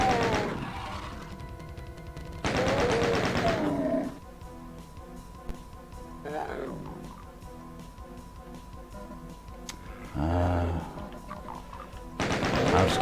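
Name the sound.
ricocheting pistol shots in Classic Doom mod video game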